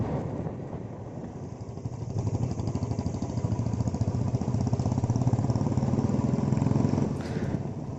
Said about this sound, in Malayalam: ഇപ്പോൾ ഈ ബൈക്ക് റൈഡ് ചെയ്യണത് ജയരാജാണ്.